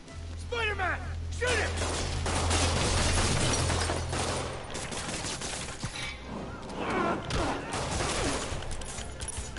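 Gunfire from the Spider-Man video game, a sustained burst of rapid shots and crashing impacts under loud game music, with voices speaking over the action.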